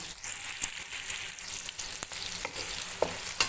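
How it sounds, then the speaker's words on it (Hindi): Onions frying over a medium flame for aloo gobi chicken give a steady close hiss and crackle, broken by a few sharp clicks of stirring, with no talk. "मीडियम फ्लेम पे आपने इसको फ्राई करना है अच्छे से"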